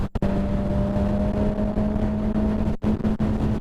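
A Suzuki GSX-R 750 motorcycle engine holds a loud, steady high-rev drone around 7,000 RPM, heard close with heavy wind buffeting, and it briefly cuts out near the end.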